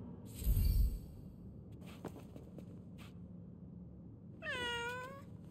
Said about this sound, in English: Hey, that cat. Did it tail us here?